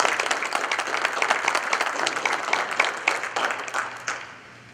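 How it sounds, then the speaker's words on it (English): An audience breaks into applause, a moderate crowd clapping briskly at first, then thinning out and fading away toward the end, heard from a middle distance without talk. "Let's give them a round of applause."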